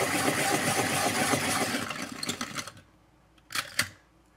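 A Helix A5 hand-crank sharpener grinds a Prismacolor Ebony drawing pencil with a steady, close grinding whir that tapers off, followed by a couple of short mechanical clicks or scrapes.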